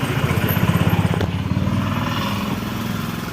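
A Toyota Fortuner engine with an alternator fault revs up from idle with a pulsing, rough beat, then holds a steady drone, loud and close, with no talk over it.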